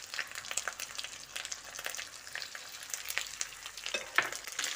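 Cashew and poppy seed paste frying with ginger and green chilli in oil, a soft, crackling sizzle with frequent sharp pops and a few stirring scrapes, fairly quiet and close.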